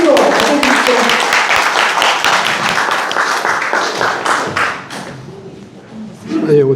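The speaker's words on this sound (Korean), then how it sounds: "큰 박수로 맞아주십시오" Loud, dense applause from an audience at a rural basic-income forum in an agricultural center hall as a speaker takes the stage; the clapping slowly thins and fades, and a voice briefly comes in at the end.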